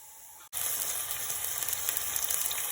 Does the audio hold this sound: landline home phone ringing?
no